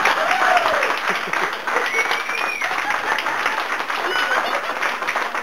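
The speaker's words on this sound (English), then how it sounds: "Give yourself a good round of applause" Partygoers at a birthday roast give a loud round of applause, dense clapping close by with some voices mixed in, easing slightly midway then continuing.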